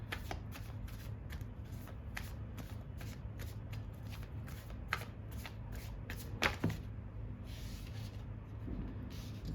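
Tarot cards being shuffled by hand, a fast run of crisp riffling flicks repeated steadily and close up, with a few louder snaps near the end over a faint background hum.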